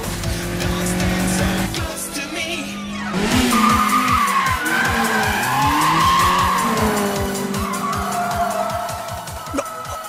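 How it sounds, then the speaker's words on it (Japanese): A Toyota AE86 and a Honda Civic EG6 slide through a four-wheel drift on a narrow mountain road, tires squealing loudly over revving engines, with bursts of gear changes and continuous skidding close by. "半分の車線だけでセンターラインをはみ出さない四輪ドリフト、すげえハイテクニックだ"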